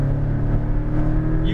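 Sports car on a Las Vegas race track, likely a Porsche GT2 RS or Lamborghini Aventador SVJ, its engine roaring loudly and steadily under acceleration for a brief moment.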